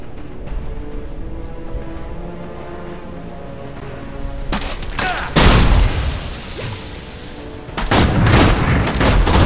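Demon Hunter's evasive fire crossbow in Diablo III, firing loud gun-like shots: a dense burst of rapid impacts from about the middle, a brief lull, then another heavy volley to the end over a quiet ambient game background.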